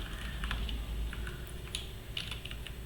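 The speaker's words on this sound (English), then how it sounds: "So, type servo1 dot write position and put a delay." Arduino servo code being entered on a computer keyboard: quick, irregular key clicks in a continuous run, close and moderately loud, with no talking.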